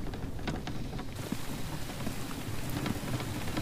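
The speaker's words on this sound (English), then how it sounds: "Always raining in the morning." Rain in the video game The Infected falls steadily on surfaces, making a soft, even hiss with scattered droplet patter and no voices.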